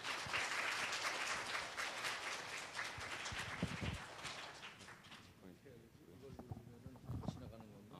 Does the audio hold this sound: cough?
no